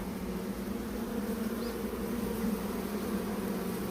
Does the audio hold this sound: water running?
no